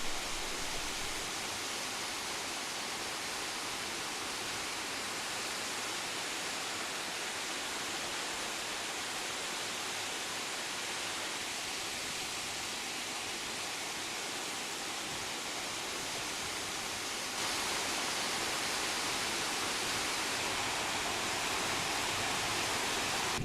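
Waterfalls in the Wadi Dabat valley of Oman give a steady, broad rush of falling water. It runs unbroken and fairly loud, filling the scene with a continuous hiss and no voices.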